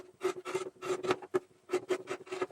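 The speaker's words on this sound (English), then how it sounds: "just clip the corners. And trim the seam at the top of the curved area." Scissors snip and trim the seam allowance of a fabric wallet, a run of short, crisp cuts in uneven rhythm with brief pauses, close and moderately loud with no talking.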